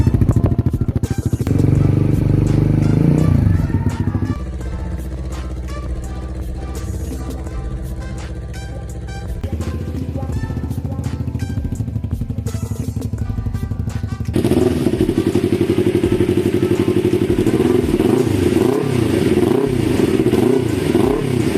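Motorcycle fitted with an imported aftermarket exhaust and dB killer, idling and revving in bursts with a throaty low rumble, close and loud throughout, with some clatter and thumps along the way.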